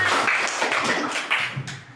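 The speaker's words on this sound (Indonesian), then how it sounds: "Beri dong tepuk tangan." Students clapping briefly in a classroom after a good question, a light scattered patter of hands at moderate distance.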